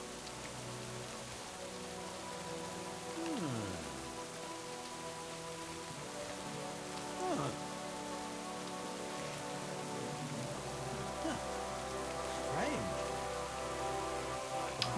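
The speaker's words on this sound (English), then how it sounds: "Tuck, tuck, it looks like rain, Mr. 365." Steady rain in the video game Kingdom Come: Deliverance II pattering on a hard surface, constant and close, with faint muffled voices and tones drifting underneath.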